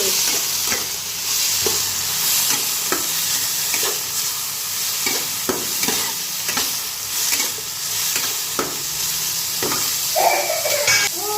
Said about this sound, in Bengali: অনেকটা ভাজা হয়ে গেছে এবার টমেটোগুলো টমেটোগুলো দিয়ে দিই